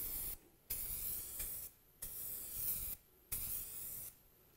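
Spray gun laying a second coat of self-etching primer on auto body panel, four quick even hissing passes separated by short silent gaps, close and steady.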